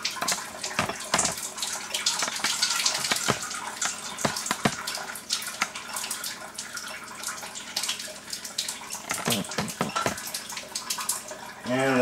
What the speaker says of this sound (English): And I'm going to take some acid water right from the drain spout here.